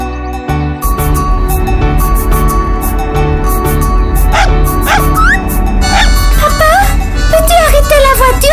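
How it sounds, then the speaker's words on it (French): Puppy yipping and barking on a road, several short high cries rising and falling over a loud continuous musical backing. "Il y a un chiot sur la route."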